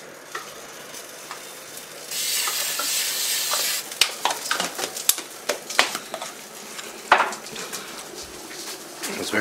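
Bolognese meat frying in a pan greased with fat-free cooking spray: a steady sizzle starts, then a utensil scrapes and clacks repeatedly against the pan while stirring, close and fairly loud.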